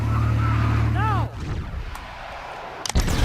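Explosive charges detonate in the Advanced Warfare video game, a heavy blast giving way to a rumbling decay, then another sharp burst near the end, all over a steady vehicle drone.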